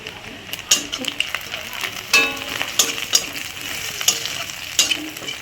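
Dried red chilies and black cumin (kalo jeera) sizzle in hot oil in a kitchen pan, a steady close frying hiss broken by irregular stirring scrapes and clicks of a spatula.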